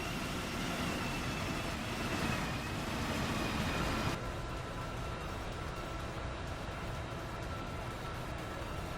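A high-speed bullet train driven in a railway simulator game, a steady rushing rumble of wheels and air at speed, with the sound shifting to a slightly muffled, quieter tone midway, continuous with no talk.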